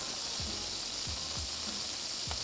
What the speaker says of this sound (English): Look at those sizzle sounds.